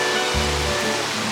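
Water poured into a gold panning trap beside a river in Piedmont, a steady close splashing and trickling rush that swells midway and continues without talk.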